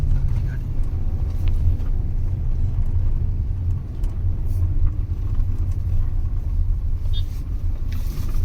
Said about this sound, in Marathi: एक गाडी गेली पण आता मतदान करण्यासाठी